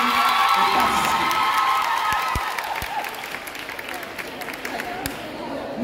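Audience applause fills the hall at a graduation ceremony of an African arts school, steady and dense at first, then thinning slightly, with scattered cheers and shouts mixed in.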